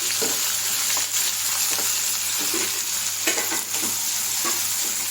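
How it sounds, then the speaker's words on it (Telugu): Chopped onions frying in hot oil for a Rayalaseema-style kanchara kaya fry, a steady close crackling sizzle with brief scraping stirs throughout and no talking. "ఈ ఆనియన్స్ మొత్తం రెడ్ గోల్డెన్ కలర్లో వచ్చేంత వరకు వేయించాలన్నమాట"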